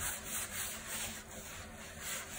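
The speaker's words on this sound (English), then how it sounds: "I'm going to soak my sponge in that vinegar mixture, and it's going to help remove all that baking soda and grime from the oven." A vinegar-soaked sponge scrubs baking soda grime off an oven surface, giving quiet, close, rhythmic rubbing strokes in a soft steady back-and-forth.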